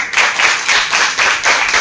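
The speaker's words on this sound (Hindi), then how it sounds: "एक बार ताली हो जाए आंसू के साथ।" Rhythmic group clapping at an indoor team meeting presentation, loud and close, with about five even bursts of claps in steady time.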